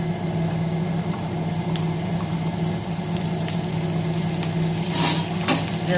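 Beans tossed into frying onions in a pan give a steady low sizzle with occasional scraping taps of stirring, close and fairly quiet, with no talk.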